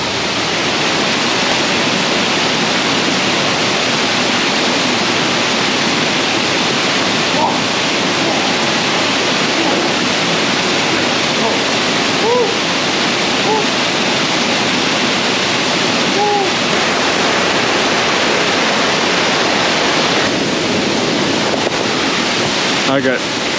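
Loud, constant roar of a waterfall, a dense wash of rushing water that never lets up, with faint voices occasionally breaking through.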